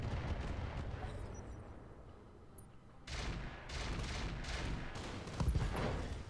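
Video game gunfire as allied troops shoot at enemies, dense bursts of shots and booming impacts that thin out briefly, then return heavier and continuous.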